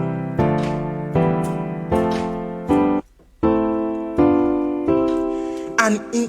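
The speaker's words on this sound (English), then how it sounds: "You have to now convert them to chords" Piano playing scale notes harmonized as full chords, a steady sequence of about eight loud, close, sustained chords struck one after another with a brief pause midway, no talking.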